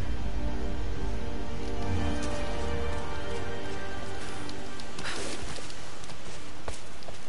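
Steady rain falls in a video game set in a Siberian geothermal valley, a dense, continuous hiss with a few brief pattering bursts and no voices over it.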